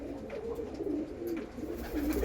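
Pigeons in a breeding loft coo softly and repeatedly, low rolling calls overlapping one another at close range.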